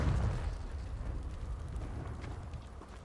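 In Hogwarts Legacy, a Confringo fire spell bursts in a deep explosive thud, then a rumbling, crackling tail that stays fairly loud for a few seconds.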